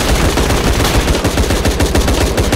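Rapid bursts of automatic gunfire in the Shadow of the Tomb Raider video game crackle densely and loudly, with shots following each other in a fast, continuous volley.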